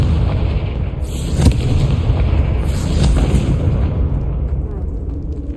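Fiery Confringo spell blasts in Hogwarts Legacy, two dense booming explosions with a roaring rumble that stays loud, heard close over a constant game backdrop.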